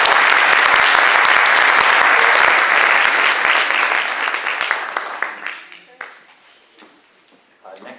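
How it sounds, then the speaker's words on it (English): A round of applause for a candidate at a candidates night held at Oakridge High School; dense, loud clapping from the crowd that thins out and fades to a few scattered claps by the end. "So we could have a round of applause for Trish."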